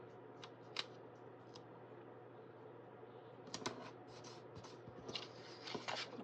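Scissors snip paper while trimming a planner dashboard layout, with a few quiet scattered cuts early on and a denser cluster of sharp snips toward the end, close and faint.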